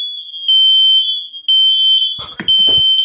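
Loud, shrill repeating beeps from a Nest Protect smoke alarm sound close by in a steady on-off rhythm, with a short burst of clattering noise near the end.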